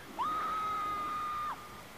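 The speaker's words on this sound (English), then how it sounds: "we pre-recorded one of the bloodiest girly screams we found on Soundtrack Pro" A single high, sustained shrill scream lasting over a second, flat and electronic-sounding, like a recording played through a small phone speaker in a quiet space.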